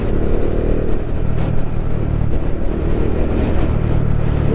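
A Bajaj Dominar 400 motorcycle engine pulling steadily in fourth gear while riding, loud and close, with a constant throbbing hum mixed with wind rush and no talking.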